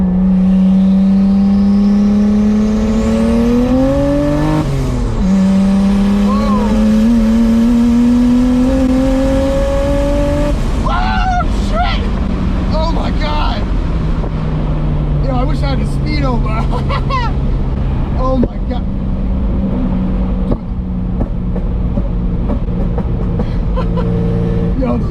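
A turbocharged BMW E30 with a stock M20B25 six pulls hard through the gears in traffic, loud rising engine tones broken by shifts, then a rough, crackling settle; recorded close on a small camera mic, with people talking over it.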